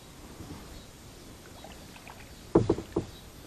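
A kayak moves through Crystal Cove's waters, its paddle strokes sounding as a few quick, close splashes near the end over a low, steady ambient wash.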